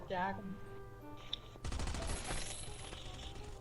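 Bursts of rapid gunfire in Last Island of Survival crackle loudly for a couple of seconds, with a voice speaking briefly before the shooting starts.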